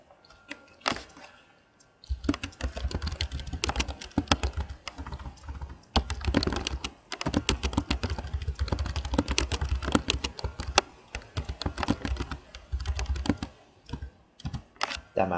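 Instructions being typed on a computer keyboard: close, dense clatter of key presses in quick irregular bursts, starting after a short quiet lead-in and continuing with small pauses throughout.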